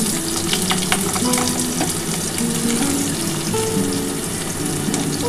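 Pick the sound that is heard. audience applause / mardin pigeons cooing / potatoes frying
potatoes frying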